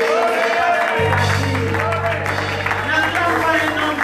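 A church congregation applauds and cheers together, a steady wash of clapping and raised voices with a low hum running beneath.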